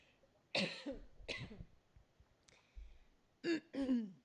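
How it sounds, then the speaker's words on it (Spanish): Several sharp coughs close to the mic, first two in quick succession, then a lighter one and a final pair, with quiet pauses between. "Perdón que es que me cogí una tos."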